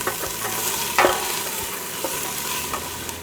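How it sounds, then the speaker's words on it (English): Onions and carrots sauteing in a pot, a steady close sizzle with spoon scrapes and clinks against the pot, one sharper knock near the middle, no voices. "So we got our onions and our carrots sauteing a little bit."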